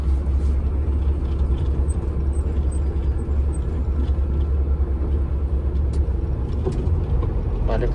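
Dump truck at a dumping area, its engine giving a steady low rumble with constant road-vehicle noise throughout, fairly close, with no clear speech over it.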